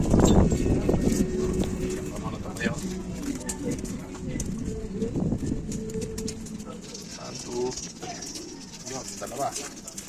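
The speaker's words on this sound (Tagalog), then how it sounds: "yan ang ating ibon." A pigeon coos close by at a racing-pigeon loft, soft rounded calls repeating under nearby talk and handling noise, with a rustle of wings early on.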